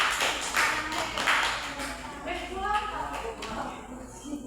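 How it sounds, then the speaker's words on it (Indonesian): A classroom of students claps for a student group after its presentation, a scattered, uneven patter of hands that rises in bursts and fades within a few seconds, with voices talking over it. "Udah beri tepuk tangan buat kelompok."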